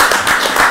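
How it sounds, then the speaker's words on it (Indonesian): Applause for an army regional commander, a dense burst of clapping hands, loud and close, filling the short moment. "Kita berikan aplaus kepada Pak Danrem."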